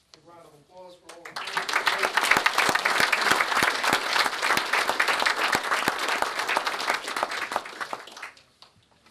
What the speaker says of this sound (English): A round of applause for all of